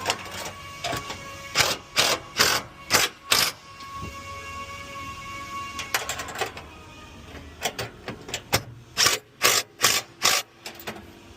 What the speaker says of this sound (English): we're going to just go with the handheld ratchet and just go over all of these